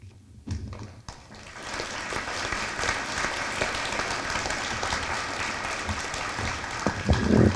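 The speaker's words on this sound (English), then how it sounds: "Please hold your applause until each program has been recognized." An audience at a school senior celebration breaks into sustained applause after a couple of isolated claps, a dense, even patter of many hands that swells slightly near the end.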